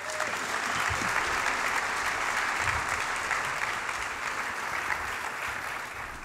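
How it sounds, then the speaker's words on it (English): An audience applauds at a conference keynote on teaching and innovation, giving steady, dense clapping that fills the hall for several seconds and then eases slightly. "Please, a round of applause for Paul Curtis."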